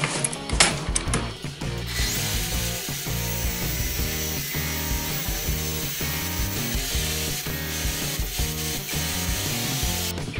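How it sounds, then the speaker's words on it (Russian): Metal hardware from a balcony door's tilt-and-turn mechanism is filed down, producing a steady, loud rasping scrape with rhythmic strokes that runs continuously from near start to finish. "И просто здесь подпиливаем. Вот так, чтобы лишнее здесь у нас не болталось."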